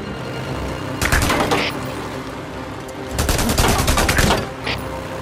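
Gunfire in the video game Days Gone, two distinct bursts of rapid automatic shots, loud and close, separated by a short lull of quieter background noise.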